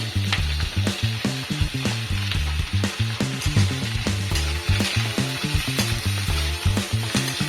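Brinjal pieces fry in a pan while cooking Bengali-style sambar dal, giving a steady hissing sizzle with regular scraping stirs close up, with no voices.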